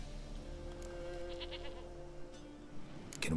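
In The Witcher 3, a goat gives a few short, wavering bleats over a steady game ambience hum, fairly close and without speech.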